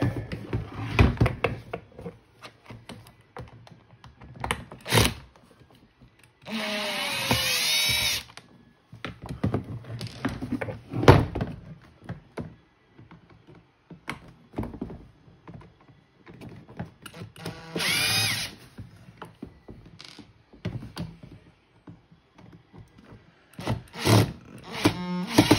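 Power drill backing out screws from a 12-foot inferno skeleton head, several short whirring bursts separated by handling clatter and knocks, close by and with no speech.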